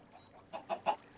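Chickens in Minecraft give three quick, soft clucks in a rising run, faint and close, with no talking.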